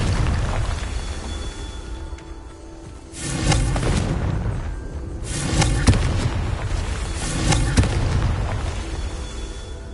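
Blasts from the Confringo explosion spell in the Hogwarts Legacy video game. Several loud, deep booms roll over a dense, continuous rumble, with swells of noise recurring through the stretch.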